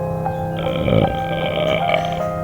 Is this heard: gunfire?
no